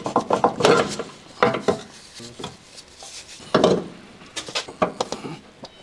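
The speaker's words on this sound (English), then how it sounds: "Remove the strut." Rear air suspension strut being pulled out of a Land Rover Discovery 4, with close metallic clanks, knocks and scraping in irregular bursts separated by short pauses, and no voices.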